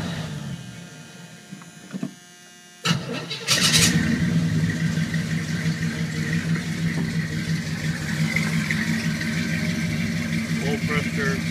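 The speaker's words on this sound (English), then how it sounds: "Got a towing cam, so it's a little bit of a lopey idle." A 1981 Chevrolet K10 truck with a towing cam and true dual exhaust starts after a short silence, then settles into a steady, lopey idle with an uneven low rumble, close by, while a person talks over it.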